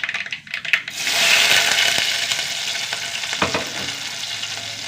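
Sliced onion hits hot oil with mustard seeds in a pan, breaking into a loud, steady sizzle after a second, with clinks and scrapes from stirring.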